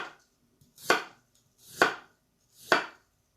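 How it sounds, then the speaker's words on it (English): Three separate firm knife chops cut daikon radish into matchsticks on a cutting board at an even, unhurried pace, each with a soft crunchy slice before the thud. "here I'm going to chop up some daikon"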